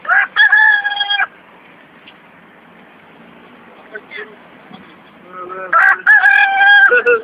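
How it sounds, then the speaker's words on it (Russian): A crow crowing like a rooster, two loud harmonic cock-a-doodle-doo calls at the start and end with quiet ambience and faint scattered sounds between them. "Ворона, которая кукарекает."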